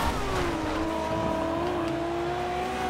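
A race car in Forza Horizon 2 drives at speed, its engine holding a steady high whine with gently sliding pitch, loud and continuous throughout.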